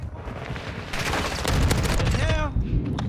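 Bursts of rapid gunfire ring out in Call of Duty: Modern Warfare II multiplayer, loud and close, layered with other battle noise while a player talks over the shooting.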